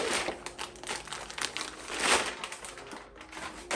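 Crinkly plastic rustles and crackles in quick, irregular bursts close by as a plastic bag holding a box is handled and opened.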